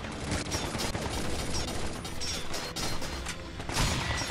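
Sustained gunfire in the Binary Domain shooter, dense rapid bursts and impacts crackling loudly and continuously throughout, with metallic clanks mixed in.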